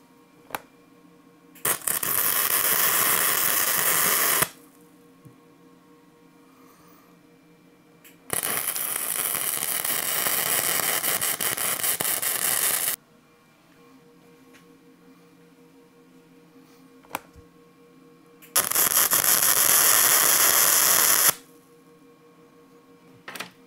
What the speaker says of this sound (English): I'm gonna finish welding this part up.